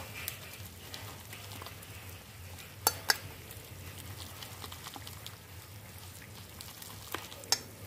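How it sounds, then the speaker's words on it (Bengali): Thin Bengali ridge gourd and prawn broth bubbling in a pan, a steady low simmering hiss with a couple of sharp utensil clinks partway through. "ঝোলটা আমার এখানে ফুটে গেছে"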